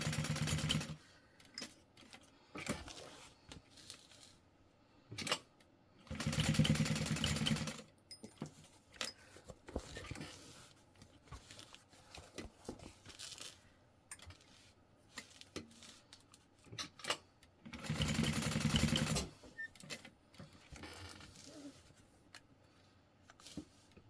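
A sewing machine stitches a handbag in three distinct runs of rapid mechanical whirring, close and clear, separated by quiet pauses with light handling clicks.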